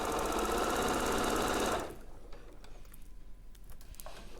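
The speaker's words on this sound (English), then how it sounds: "And we'll sew that seam." An Elna 680 Plus sewing machine stitches a quarter-inch seam in a quick, close whirring burst of under two seconds, then stops, leaving quiet room noise.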